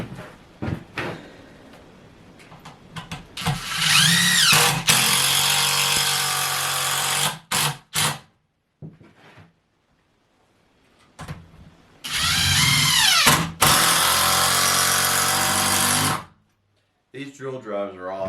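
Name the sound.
cordless drill driver driving screws into pallet wood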